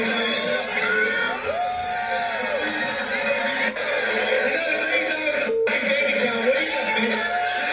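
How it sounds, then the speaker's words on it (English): A live-show crowd yells and cheers in a continuous loud roar, with chanting voices and whoops mixed into the dense noise throughout, heard through a radio broadcast. "My favorite part is the crowd yelling, beat him up, beat him up, beat him up."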